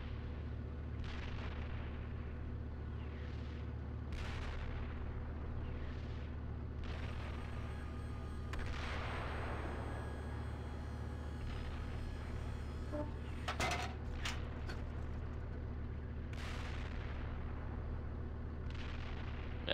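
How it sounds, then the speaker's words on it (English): Artillery shells landing in the Steel Beasts tank simulation, heard as a string of distant, muffled booms and bursts spread across a steady low rumble of engine noise, with no voices. "I got eyes on the artillery that's landing at least."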